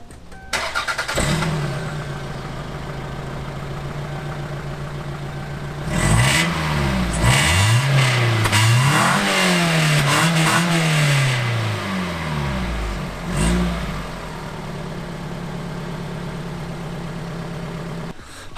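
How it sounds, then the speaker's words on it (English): A small 2-liter four-cylinder Toyota RAV4 convertible engine idles, then revs sharply several times with rising and falling exhaust roars, settling back to a steady idle. "The last thing I guess to show you guys is the exhaust note"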